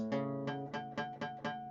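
A guitar strummed in a quick rhythmic pattern of about six strokes, with the pick catching the fourth string, which rings out and muddies the chord.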